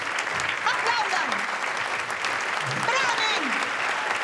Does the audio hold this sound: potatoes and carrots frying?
no